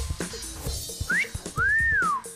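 Someone attempts to whistle, producing two brief pitched notes, a short rising chirp followed by a longer arching tone, over faint room noise.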